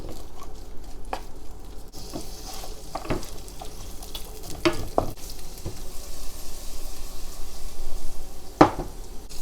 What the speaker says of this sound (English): When the oil is hot enough, we will start with garlic and onion going in.